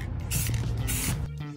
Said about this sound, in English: I think we need to hit this with my fave spray paint instead